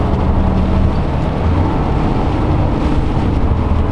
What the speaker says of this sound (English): Full exhaust brake, slow us down, we're going downhill here.